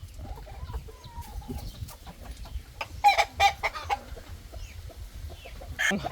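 A gamecock clucks softly a few times, with short quiet calls rising over a low background hum, somewhat distant and intermittent.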